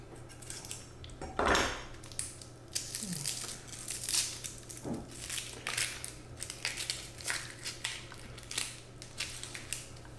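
A blunt kitchen knife peels skin and cuts on a chopping board, with repeated close scraping and tapping strokes in an irregular rhythm and no talking.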